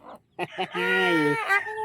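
A single bantam chick gives a short, drawn-out clucking call, fairly close and clear, preceded by a couple of brief chirpy notes.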